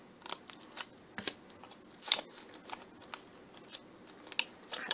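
Scissors snipping through craft material for a heavy metal hearts project, a series of short, crisp cuts at an irregular rhythm, close and fairly quiet with no talk.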